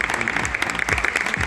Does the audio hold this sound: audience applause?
yes